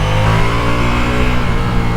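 A 2025 Ducati Multistrada V4S motorcycle engine drones loud and close while riding, its strong harmonic hum holding nearly steady with slight pulsing throttle variations, no speech over it.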